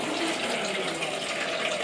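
Water runs from a bathroom tap into a slime-making container, a dense, steady gush that holds an even level throughout, with no voices.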